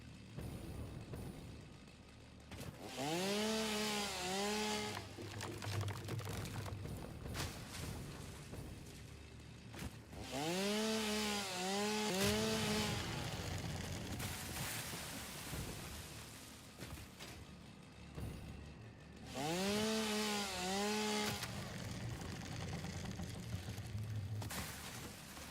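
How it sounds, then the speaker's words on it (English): A chainsaw in a video game cuts down trees, revving in three separate loud bursts about nine seconds apart. Each burst rises and falls in pitch over a steady background hum. "Oh, it's a chainsaw."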